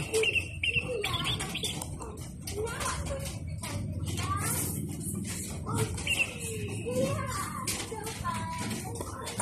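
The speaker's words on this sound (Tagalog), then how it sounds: "Tunog po ng mga ibon." Birdsong chirps and coos come from a Casio alarm clock's demo, layered over a steady busy background at moderate level for several seconds.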